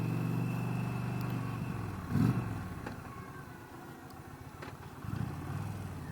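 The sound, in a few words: 2020 Dodge Challenger engine running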